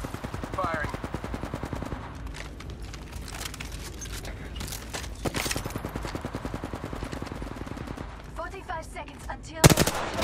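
Gunfire in Apex Legends, with rapid bursts of automatic weapon fire crackling repeatedly over several seconds, plus a sharp loud shot near the end, with game voices and a player talking throughout.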